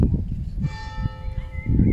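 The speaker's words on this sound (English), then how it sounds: "There's the bells ringing in the church." Church bells ring beside an old graveyard, their sustained tones swelling in over a low outdoor rumble and lingering moderately far off.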